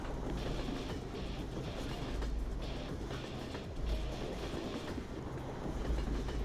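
A moving train in the game Hunt Down The Freeman rumbles steadily with a low rolling drone and faint rhythmic clickety-clack, continuous and moderately loud with no talk.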